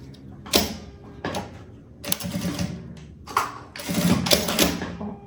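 A sewing machine stitches a handbag strap for a quilted puffer tote in short mechanical bursts, its needle clattering in quick runs separated by brief pauses, close and clear.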